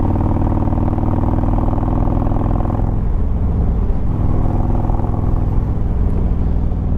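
A Harley-Davidson motorcycle engine in anarchy mode, a throttle-response tuning mode, produces a loud, close, continuous low rumble. Its tone shifts midway as the throttle changes.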